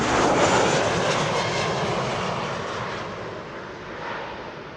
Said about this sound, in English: Air Canada is coming in with a Dreamliner